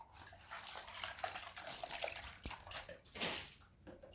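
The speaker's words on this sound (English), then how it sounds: "Rinse our seed bucket out." Water splashes and swirls as a seed bucket is rinsed out, with uneven gushes and sloshing close by that swell toward the end before tapering off.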